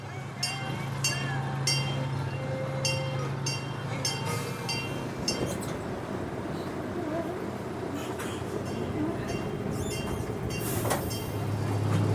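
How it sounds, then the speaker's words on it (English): A small amusement park train ride rumbles steadily with rhythmic clicking and clanking, accompanied by background crowd chatter and wind, at Michigan's Adventure. "That's a cute little train ride there."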